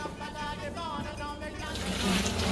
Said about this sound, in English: Dump it out into your colander.